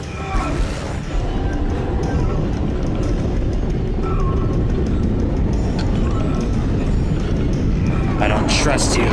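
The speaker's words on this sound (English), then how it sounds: "That should get the tram to come back online." A tram in the Dead Space video game rumbles and grinds as it arrives, a loud, continuous mechanical roar with metallic clanks near the end and voices talking over it.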